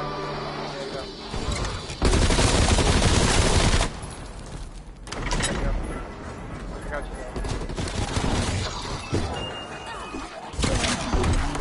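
Bursts of SMG fire in Call of Duty Cold War Zombies, loud and dense in stretches with pauses between volleys, mixed with game noise and voices talking.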